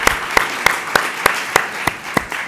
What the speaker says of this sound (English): Let's give each of you a huge big round of applause for braving the weather and being here.